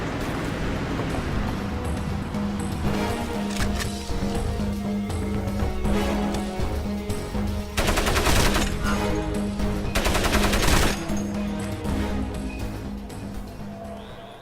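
Mounted turret machine gun firing in Crysis, a sustained loud rattle of automatic fire with heavier bursts in the middle, over a constant background rumble of game ambience.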